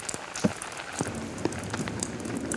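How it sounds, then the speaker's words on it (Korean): Steady spring rainfall at night patters on surfaces of a zoo enclosure with scattered heavier drops, a soft continuous hiss with no voices. "대자연이 속삭이는 듯한 빗소리에 펜자의 표정이 누그러집니다"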